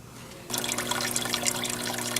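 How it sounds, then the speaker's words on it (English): Water starts abruptly from a tap and keeps pouring while a fish tank is refilled, a dense close splashing rush with a faint steady hum beneath and no talking. "I'm in the process of refilling my fish tank after watering the plants"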